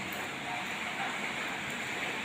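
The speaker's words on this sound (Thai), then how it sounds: "ไปไหนไม่ได้เลยนะครับ ฝนตก ตั้งแต่เมื่อคืนเลยนะครับผม" Heavy rain falls as a steady, dense hiss of water, fairly faint and continuous, with no voices.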